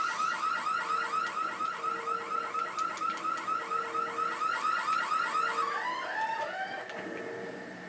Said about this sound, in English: It's gonna be a loud alarm like it was last time.